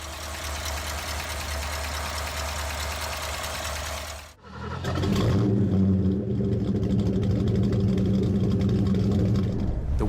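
A supercharged 1957 Chrysler 300 and a 1973 Mustang Mach 1 at a drag strip: a loud, close engine roar drops away briefly, then returns as a rough, throbbing engine note.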